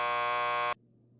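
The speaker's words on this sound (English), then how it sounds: "Just press the buzzer by the door." Door buzzer in the video game Max Payne 2 at a police lockup: a single loud, steady electric buzz lasting under a second, then cutting off abruptly to quiet room tone.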